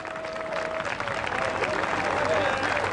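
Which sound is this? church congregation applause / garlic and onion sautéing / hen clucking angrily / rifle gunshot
church congregation applause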